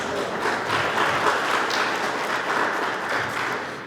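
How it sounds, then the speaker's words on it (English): Audience applause at a Connecticut family day event, a steady wash of many hands clapping at moderate loudness, sustained evenly and tapering slightly at the end. "give her a round of applause for that"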